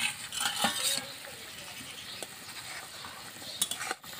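Fried fish pieces going into a sizzling raw-mango curry with green chillies, giving a burst of bright spattering and clinks at first, then a steady hiss under a few scattered stirring knocks.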